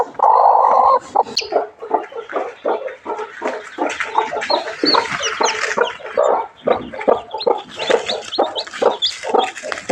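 Hens clucking steadily alongside chicks peeping, a dense continuous farmyard chatter of several birds close by, with no talk.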